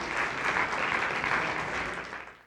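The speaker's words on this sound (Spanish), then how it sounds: "¿Le damos un aplauso a Dios?" A church congregation claps steadily for a couple of seconds, a dense even applause that fades out at the end.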